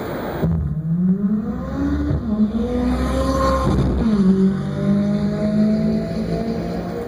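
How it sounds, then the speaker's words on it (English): A McLaren 570S sports car, rated 562 horsepower, revs its engine up and down in several rising and falling sweeps, loud and close, with a smooth, strong tone and no talk over it. "The noise this car makes is also pretty special."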